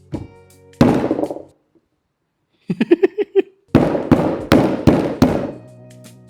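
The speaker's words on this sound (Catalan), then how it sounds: "Una és tallar-les i l'altra és fotre'ls un cop de martell. Nosaltres en aquest cas la picarem" Hammer blows cracking walnuts for homemade ratafia, several sharp loud thuds with shell cracking, a quick burst of lighter taps in the middle, then more heavy strikes close by.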